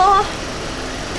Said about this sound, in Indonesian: knalpot bunyi kayak mobil sport